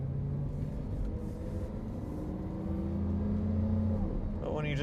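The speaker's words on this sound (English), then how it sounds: "Oh, the downshift. Crackle." Inside a Lamborghini Aventador or Ford GT supercar, the engine drones steadily with shifting pitch, rising toward the end; a person speaks over the cabin noise.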